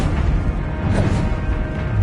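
Confringo fire-blast spell erupting in the Hogwarts Legacy video game: a loud, rumbling crash of sustained low noise with faint whooshing bursts over it, no voices present.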